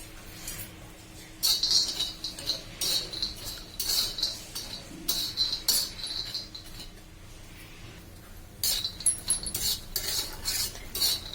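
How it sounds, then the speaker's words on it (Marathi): Peanuts dry roasted on a tawa give off repeated bursts of metallic scraping and rattling as they are stirred, close and fairly loud, with short pauses between the bursts. "आता आपण शेंगदाणे भाजून घेणार आहोत"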